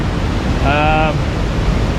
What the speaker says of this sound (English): big waterfall next to me here